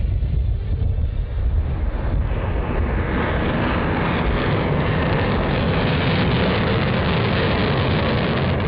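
Sukhoi Su-30 MKI fighter jet passing at low speed of about 200 km/h, a broad, sustained roar that builds steadily louder and holds strong, with wind buffeting mixed in.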